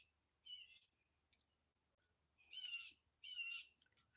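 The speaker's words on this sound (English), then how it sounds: "If y'all hearing them birds chirping" A few high, raspy bird chirps ring out in short bursts against a quiet background, with a low steady hum underneath.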